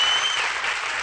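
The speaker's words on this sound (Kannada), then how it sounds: "ವಂಡರ್ಫುಲ್, ಚಪ್ಪಾಳೆ" Audience applause at a Kannada television couples reality show, a short burst of steady, dense clapping that fills the whole moment without speech.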